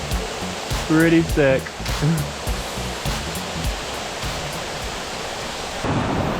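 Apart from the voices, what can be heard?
big waterfall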